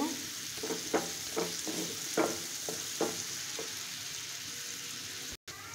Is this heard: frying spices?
yes